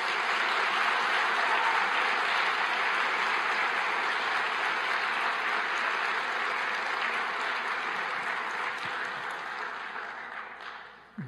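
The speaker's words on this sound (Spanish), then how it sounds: "Yo quisiera solicitar un aplauso para este pastor." Congregation applause in a church for a pastor, a broad steady wash of clapping that holds for several seconds and then fades out at the end.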